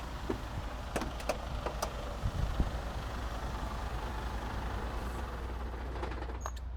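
A Mercedes truck engine runs steadily at low pitch throughout, with a few faint clicks and short knocks on top and no speech.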